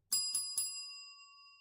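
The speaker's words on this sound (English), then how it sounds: "They didn't even get to hear the bell of recognition." A small bell rings three times in quick succession, bright and close, with the last strike left to ring out and fade slowly.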